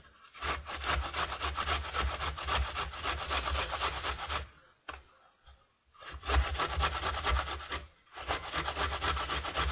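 A cheap Poundland grater rasps in long, steady back-and-forth strokes, loud and close, with two brief pauses between runs of grating.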